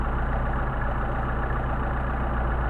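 Engine with Solex carburetors idling while the carburetors are tuned, a steady low even rumble with a constant drone, close and unchanging for the whole stretch with no talking.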